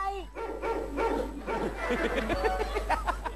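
A dog barks and yips repeatedly in quick, irregular bursts, loud and nearby, mixed with whimpering notes while people talk over it.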